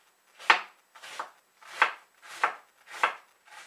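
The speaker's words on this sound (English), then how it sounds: "It's important to make thin slices on your cabbage" A knife cuts thin slices through a head of cabbage laid flat on a board for egg rolls, giving five crisp, evenly spaced chops, close and clear with no talk.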